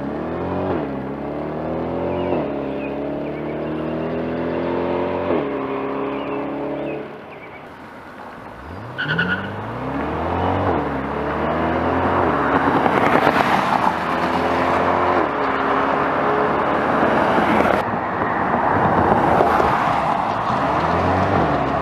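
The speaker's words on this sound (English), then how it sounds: "some actual video clips of the mid-engine Corvette doing some 0 to 60 runs" Mid-engine Corvette with twin-turbo V8 and dual-clutch gearbox launching from 0 to 60: engine note climbs in rising sweeps, with a few quick gear changes breaking the pitch, then a louder, more distant roar as the car pulls away.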